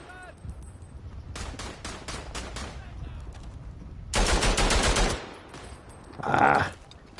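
Gunfire in the World War I trench shooter Verdun comes as several loud bursts of rapid automatic shots with pauses between them and a final sharp volley, all close and prominent.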